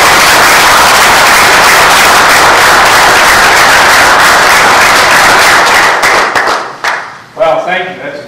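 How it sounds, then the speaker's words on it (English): Loud, close applause from an audience at a city council meeting fills most of the moment, then thins out into scattered claps and fades near the end. "let's have a hand of applause for the last"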